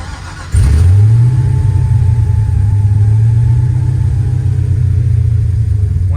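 An LS-swapped dually truck engine cranks and fires up close by, jumping to a loud rev that settles into a steady, deep rumbling idle with no one speaking.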